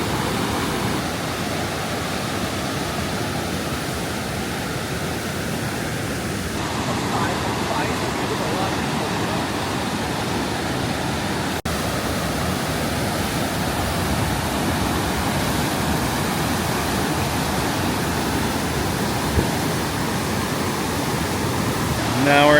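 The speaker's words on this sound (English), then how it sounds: "The water's traveling at 40 miles per hour and makes class 6 rapids out there." Steady, powerful rush of churning class 6 river rapids at Niagara Falls, a continuous broadband roar close by with no pauses, loud throughout.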